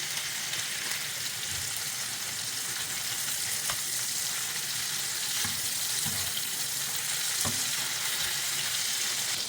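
Chanterelle mushrooms frying in butter in a pan, a soft continuous sizzle heard close with a few light taps and stirring scrapes of a utensil.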